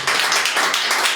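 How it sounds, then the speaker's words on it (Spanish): Congregation clapping hands in praise during a Spanish-language church service, a steady dense patter of many palms close by that fills the short moment without pause. "Dale palmas de alabanza al que vive."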